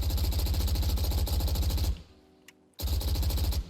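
Very rapid, evenly spaced gunfire rattles loud and close from a high fire rate weapon during Reyna's ultimate in Valorant, breaking off briefly before the burst resumes.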